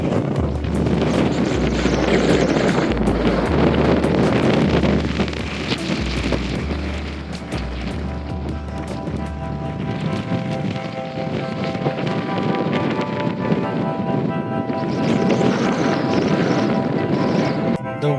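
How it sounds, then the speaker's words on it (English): Strong wind on a Colorado mountain top roars and buffets across the microphone, a continuous loud rumble with surging gusts and no pause. "Wind up here is so strong. It feels like it's gonna blow me away."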